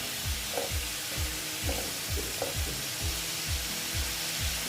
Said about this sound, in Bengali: দিয়ে আমি এটা ভালো মতন কষিয়ে নেব মশলাটাকে।